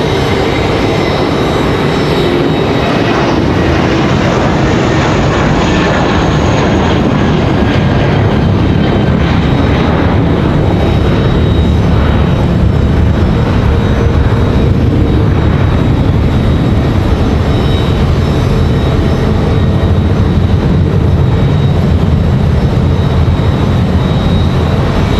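A JetBlue airliner passes at Raleigh-Durham International Airport, its engines making a steady, loud broadband roar that holds through the whole stretch with a slow rise and fall. No voices are heard.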